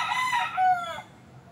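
Young roosters, three-month-old stags kept in a bamboo backyard, crow close by in a single strained call lasting about a second, with no talking.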